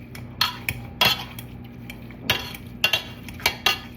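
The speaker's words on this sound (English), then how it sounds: "And we're gonna mash this cauliflower" Cauliflower being mashed in a single pan, with sharp metallic clinks and scrapes of a utensil against the pan at irregular intervals over a steady low hum.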